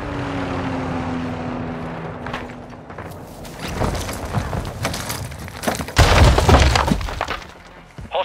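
In a Call of Duty Modern Warfare 2 multiplayer match, a care package delivery aircraft drones overhead and passes, followed by crashing, breaking impacts and busy battle noise that grows louder toward the end.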